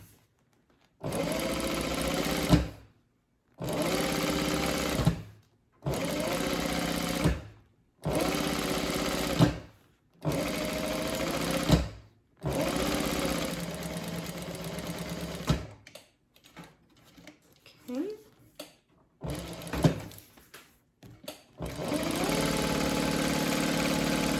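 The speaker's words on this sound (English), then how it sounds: "stitch all 4 sides of my strap" A sewing machine stitches along the sides of a handbag strap in repeated bursts of close, steady whirring, each a few seconds long, separated by pauses with light handling noises.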